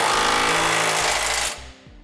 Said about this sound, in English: Using a 3/4 inch socket, I'm gonna come back and snug up all my hardware.